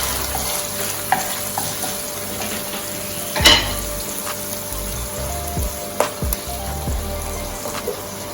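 Mackerel frying in a hot pan gives a loud, steady sizzle with crackling pops, a sharp burst partway through and scattered spatters after it, and no voices.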